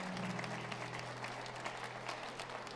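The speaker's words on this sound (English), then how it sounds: "Come on, let's clap for them as they come." A church congregation claps steadily during a Mother's Day service as people come forward to the altar, a dense, even patter of many hands heard at a distance.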